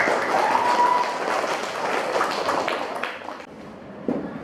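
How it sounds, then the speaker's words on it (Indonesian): Students in a seventh-grade classroom clap their hands together, a brief burst of clapping that thins out and fades, with a few scattered claps near the end. "tepuk tangan dulu"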